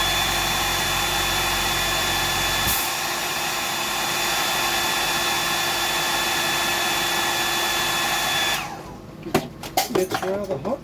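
A hair dryer blows steadily over a juvenile bass, a loud continuous rushing whir that dips once early on, then cuts off near the end, followed by a few clatters and handling knocks.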